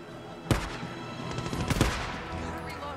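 Gunfire in the zombie survival game Days Gone: two loud, sharp shots about a second apart, followed by scattered rattling shots and a noisy background.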